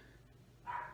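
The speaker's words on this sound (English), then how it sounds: "Sorry about the barking dog." One short dog bark, faint and distant, after a moment of quiet.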